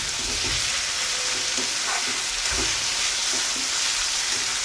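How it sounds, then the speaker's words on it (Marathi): Moth bean khichdi sautéing in a pan over a high flame, a loud, unbroken sizzle with soft stirring scrapes and occasional thuds of the spoon. "इथे मी गॅस थोडा पण स्लो केलेला नाही, मोठ्या गॅसवरती सगळं परतून घेत आहे"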